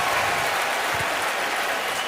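Stadium crowd at a preseason NFL football game, Browns at Redskins, cheering and applauding in a dense steady roar that fills the whole stretch with no pauses, loud and broad.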